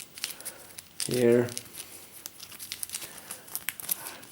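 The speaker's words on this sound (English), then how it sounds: "It's a little bit difficult to shuffle in these sleeves when you have this few cards left." Cards in plastic sleeves shuffled during a Pathfinder: Rise of the Runelords card game, one short crinkly riffle lasting under half a second, with someone talking before and after.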